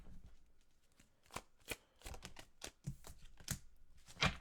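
Tarot cards are shuffled and drawn from a deck, giving a run of soft riffling flicks and sharper snaps at close range with brief pauses between them, with no voice heard.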